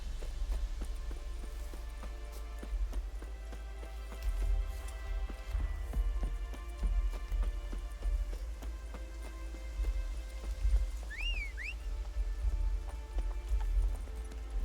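Horse hooves clop steadily along a road in the video game Witcher 3, a continuous galloping rhythm with faint background ambience and a short whinny-like tone near the end.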